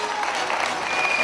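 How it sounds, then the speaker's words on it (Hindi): A brief burst of steady studio audience clapping on a Hazara game show, dense and even throughout. "तालियां"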